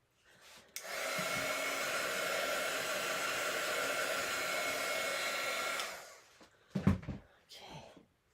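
A heat dryer blows steadily for about five seconds while drying art journal pages, then cuts off, followed by a few brief handling noises.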